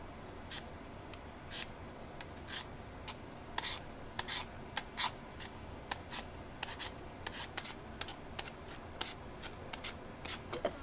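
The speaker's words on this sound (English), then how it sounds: "Thinly slice up the potato." Potatoes sliced thinly with a knife on a board, a steady series of sharp, quiet cuts at an uneven rhythm, close up and alone.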